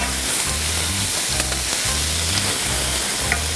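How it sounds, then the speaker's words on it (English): Onions sautéing in olive oil in a pot for Cajun cabbage with andouille, a steady close sizzle with rhythmic low stirring thumps throughout, no voices. "Then you want to add in your onions. You want them to cook down."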